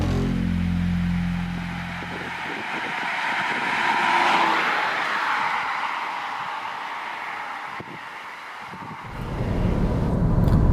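Peugeot 308 SW estate with a 1.2 three-cylinder turbocharged 130 hp petrol engine, heard driving: a low engine drone at the start, a steady road and wind rush through the middle, then a rising rumble toward the end, with no talk.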